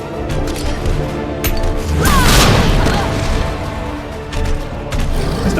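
A grenade goes off in Resident Evil 2 Remake with one loud, sharp boom and crash, followed by a short rumbling tail over steady game background noise.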